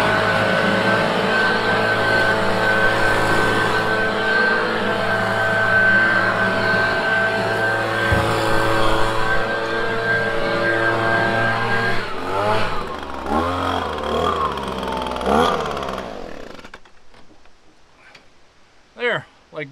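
A leaf blower runs steadily up close while blowing debris out of a really dirty truck bed, its engine drone loud and continuous before changing pitch and cutting off near the end; someone talks over it.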